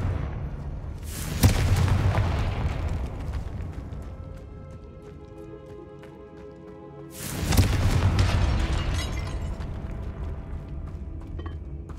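Two loud Confringo blasting spell explosions go off in the video game Hogwarts Legacy, several seconds apart, each a sharp boom with a long ringing, rumbling decay.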